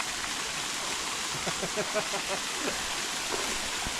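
Waterfall in a forest, a steady broadband rush of falling water filling the whole clip, close and constant, with faint voices briefly audible underneath.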